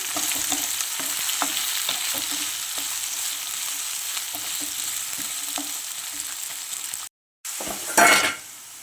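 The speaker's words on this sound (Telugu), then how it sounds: "తర్వాత క్యారెట్ ఇవన్నీ కొంచెం వేగాలి" Carrots and other vegetables fry in a pan for a coconut milk pulao, a steady close sizzle broken by light scraping stirs, a brief drop near the end, then a louder burst of frying.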